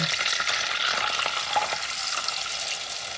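Evaporated milk, sugar and melted butter are stirred in a pan, making a steady close bubbling hiss with soft repeated scraping strokes running through it and no voices.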